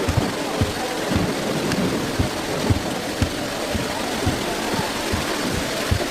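Steady heavy rain hisses across the whole stretch, with low rumbling thunder-like thumps recurring every half second or so beneath it; no voices.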